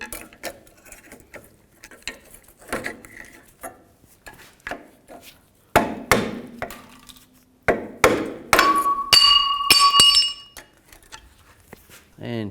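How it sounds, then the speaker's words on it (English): Brake pads on a 2000–2013 GMC Yukon are pried off with a straight blade screwdriver, giving sharp metallic clinks, scrapes and knocks in irregular bursts, close and loud against a quiet workshop background. "Take the brake pads off, just use the same straight blade screwdriver."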